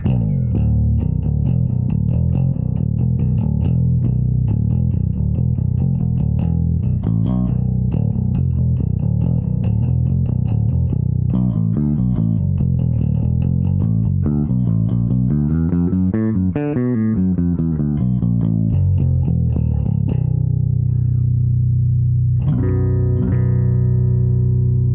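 A Cort A5 Ultra Ash 5-string bass is picked in active mid-cut mode with bass and treble boosted, giving a loud, continuous run of percussive, scooped notes with slides and a sustained final note.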